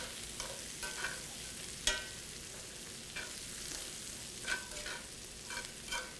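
Meat sizzles and fries steadily in a cast iron pan at a barbecue chef's station, with a dense hiss throughout and a few sharper spatters and stirring clicks, close and with no talking.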